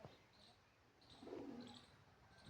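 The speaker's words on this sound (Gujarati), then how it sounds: "કબૂતર બોલે છે" Pigeons cooing inside a village well, a soft low murmur rising briefly in the middle of a quiet stretch, slightly hollow and distant, followed by a sharp close knock at the end.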